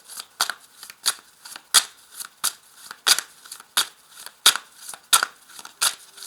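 Tarot cards are drawn and laid out, a run of about a dozen sharp, papery card snaps and slides in a steady rhythm, close and fairly loud with no talking.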